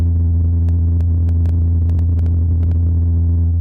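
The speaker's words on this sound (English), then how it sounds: "This is the sound of a helicopter flying on Mars." A helicopter flying on Mars, heard as a steady, droning low hum with layered harmonic tones that holds unchanged throughout, with a few faint ticks on top.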